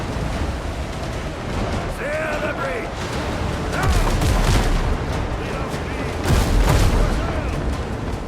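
Cannon fire on the high seas in the pirate video game Windrose: repeated deep booms rolling over a noisy ocean backdrop, loud and near, with a few louder blasts spaced across the clip.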